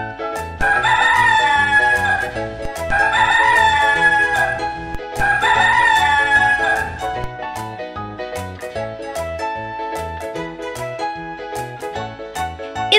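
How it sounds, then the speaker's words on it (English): A rooster crows three times in a row, loud cock-a-doodle-doo calls over an upbeat musical accompaniment that continues after the crowing ends. "the sound of rooster."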